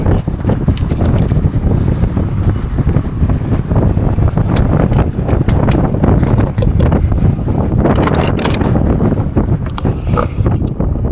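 Steady, loud wind buffeting the microphone at a snowy, cold Wyoming gas station in winter, a constant rough roar with gusty bursts throughout and no voices.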